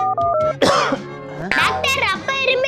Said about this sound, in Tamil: அப்பா இப்படி இரும்புறாரு.